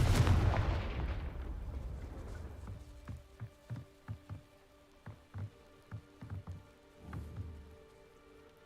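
A Confringo blasting spell explodes in a video game with a loud, booming burst at the start that slowly fades, followed by a run of rhythmic low thuds and clanks.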